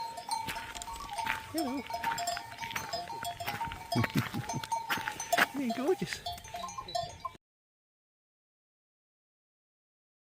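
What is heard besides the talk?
goats bleating with bells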